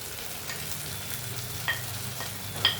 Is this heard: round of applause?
no